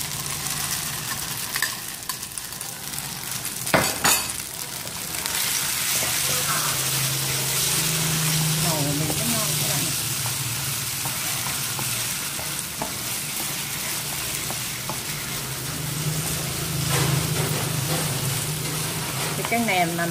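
Noodles and sausages are stir-fried in a pan with sauce, giving a steady sizzle with scraping and stirring through the whole stretch, close and moderately loud, with occasional utensil clatter.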